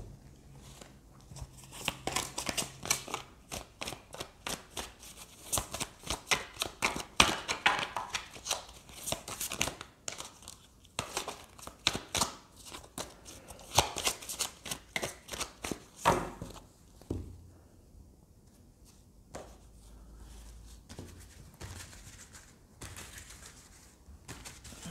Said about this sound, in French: Je vais prendre quelques cartes des sons de l'âme pour voir un petit peu avant de prendre l'oracle de Mademoiselle G.